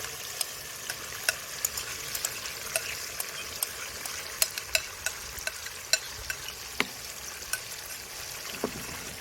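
Pan frying with a paste just added for a vegetable kofta curry, a faint steady sizzle broken by regular sharp ticks of a spoon stirring against the pan.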